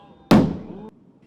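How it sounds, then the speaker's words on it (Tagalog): A single loud firecracker bang on a Manila street before New Year, a sharp close blast with a short rumbling tail lasting about half a second. "Meron ding malalaking paputok na sinindihan sa iba't ibang bahagi ng kalsada"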